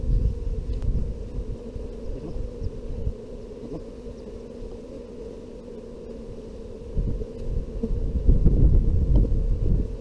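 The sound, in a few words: honey bees flying around a hive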